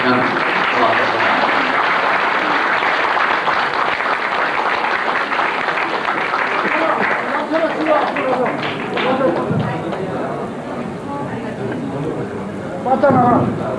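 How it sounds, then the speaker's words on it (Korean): Applause from a banquet audience at a dinner show in a Beijing international hotel, dense and sustained for most of the stretch, fading into scattered clapping and crowd murmur near the end. "여러분 다시 한번 박수 보내시면 고맙겠습니다"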